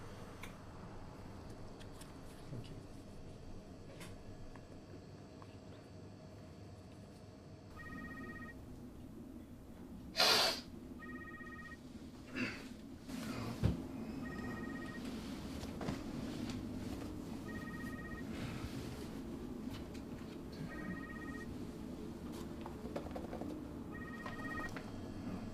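A telephone rings on the other end of a prepaid call line, repeated short double-tone bursts at a steady rhythm, faint and distant over a low hum, with no one speaking.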